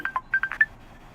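Telephone dialing tones: six short, evenly spaced keypad beeps in quick succession, fairly close and clean, followed by quiet.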